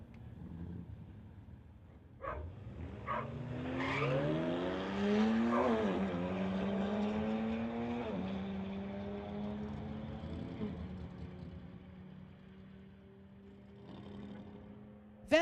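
Drag racing cars, including a 2008 BMW 335, accelerating down the strip, engines rising through several gear changes as they pass and fade into the distance, with no talk.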